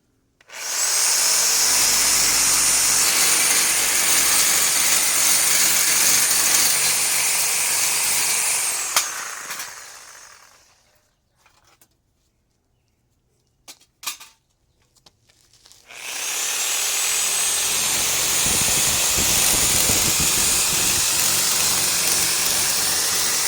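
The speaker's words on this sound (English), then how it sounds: "Now let's cut off the steel and the copper noodles from this radiator." Power cutting tool slicing through steel and copper tubing on an air conditioner radiator, a loud continuous grinding whine that runs for several seconds, stops, then resumes steadily after a short pause, with no talking.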